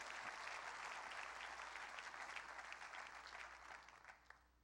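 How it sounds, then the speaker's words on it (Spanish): Church congregation applauding at a Spanish-language worship service, a broad steady wash of clapping that holds for several seconds before tapering off at the end, fairly faint and distant. "Le damos un aplauso bien fuerte al Rey"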